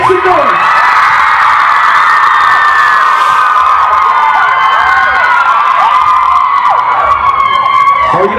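Concert crowd at the Vans Warped Tour in Toronto, 2012, roaring with loud sustained cheers, whoops and shrieks, a dense, close wall of screaming voices that stays constant from start to finish.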